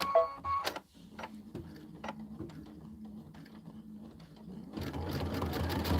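An Aveneer Lumina sewing machine stitches a quilt, its rapid needle clatter running steadily at moderate volume, with short pauses and clicks before the motor surges back in louder toward the end.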